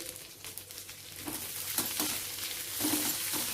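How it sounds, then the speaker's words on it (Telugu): Okra and onion pieces frying in oil in a pan, a quiet steady sizzle with light stirring scrapes over a few seconds, no speech. "ఉల్లిపాయ ముక్కలు ముప్పావు వంతు వేగిన తర్వాత ఈ బెండకాయలు కూడా వేసేయాలి"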